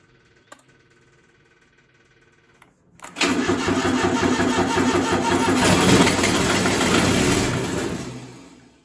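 A four-wheeler ATV engine, its battery kept on a tender through winter, cranks with a few short clicks, then catches at about three seconds and runs loud and steady with throttle before fading out near the end.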